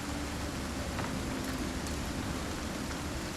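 Steady outdoor rain with wind makes a constant, even broadband hiss. It stays at a moderate level throughout, with no distinct gusts or voices.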